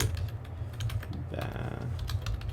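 Fast typing on a computer keyboard while entering a terminal command, a rapid, uneven run of close, crisp key clicks against a low background hum.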